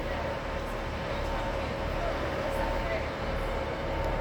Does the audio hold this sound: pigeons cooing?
no